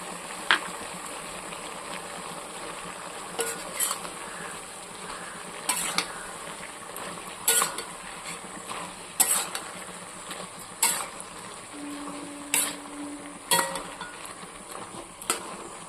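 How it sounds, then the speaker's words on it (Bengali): Shrimp paste being stirred into frying masala for a spinach dish, with a utensil scraping and clinking against the pan in repeated strokes over a low, steady sizzle. "এই পেস্ট কিন্তু দিয়ে দেবো, দিয়ে এটাকেও সুন্দর করে নাড়াচাড়া করব"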